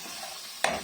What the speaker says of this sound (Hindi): ये मसाला मैं अमूमन जब तेल पड़ा हुआ होता है प्याज से पहले ही भून लेती हूँ